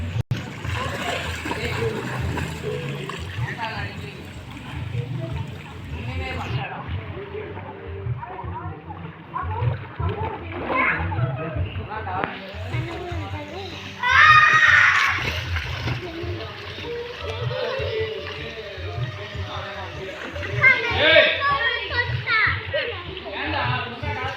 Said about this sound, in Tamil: தண்ணியில் முழுகிட்டு வரோம்